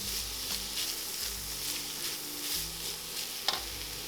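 Chopped shallot with garlic sizzles in a hot pan while being stirred, a steady close frying crackle with soft scraping strokes repeating at a slow rhythm.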